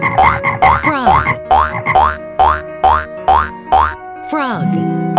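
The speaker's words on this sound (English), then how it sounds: "Frog," A cartoon frog from a kids' zoo animal learning game gives a quick run of bouncy, springy croaks, about nine evenly spaced and loud, over a steady musical backing, ending with a longer wobbling tone.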